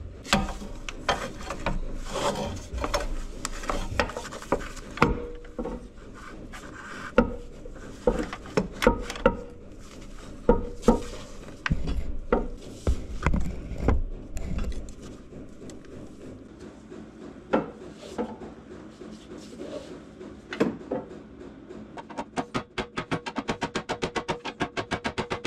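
A socket being worked onto a part while fixing up a Bobcat 751 skid steer: repeated close metallic clanks, scrapes and ratchety knocks in irregular bursts, quieter stretches between, no speech.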